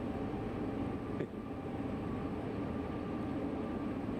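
A very long, heavy freight train of over 100 cars rolls downhill on Sherman Hill in Train Sim World 2, giving a steady, dense low rumble with a brief dip partway through.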